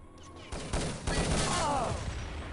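Rapid gunfire in the shooter Urban Zone during a 2v2 tournament match, a quick burst of close, punchy shots with clattering echoes, no voices.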